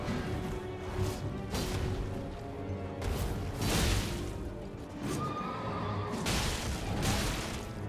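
A horse neighs repeatedly in the video game Elden Ring, several loud whinnies with crashing combat sounds between them, no talking.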